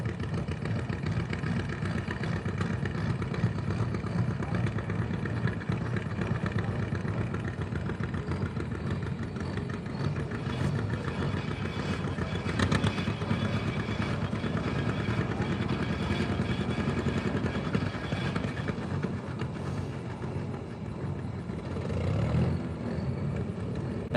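A John Deere 4010 tractor engine runs steadily at an outdoor tractor pull, a continuous loud low rumble lasting throughout with slight swells, crowd and announcer-like talk faintly mixed in.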